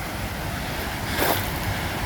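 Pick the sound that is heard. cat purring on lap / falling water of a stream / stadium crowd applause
falling water of a stream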